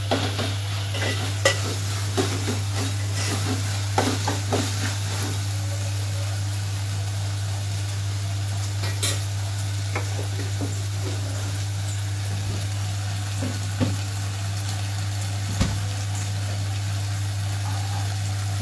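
Ginger paste fries in a pan while being stirred: a continuous close sizzle with scattered scraping ticks from the spoon over a steady low hum, no talking.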